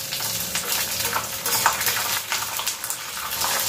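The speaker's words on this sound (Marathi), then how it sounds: "आता आपल्याला दाणे तळून घ्यायचे आहेत आणि त्याबरोबरच आपल्याला मिरच्याही तळून घ्यायच्या आहेत" Peanuts and green chilies frying in hot oil for sago chivda: a dense, continuous sizzle with a faint clink of a spoon against the pan, close and steady, with no talking.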